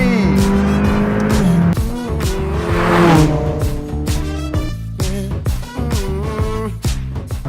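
A small car's V8 biturbo engine revs hard and accelerates. The loud, close engine note climbs, drops sharply at each gear change and climbs again, with a little tyre noise and no talking.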